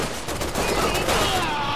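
Dense, overlapping gunfire rattles in the co-op shooter Resident Evil 6, a continuous loud barrage of shots with no clear gaps across under two seconds.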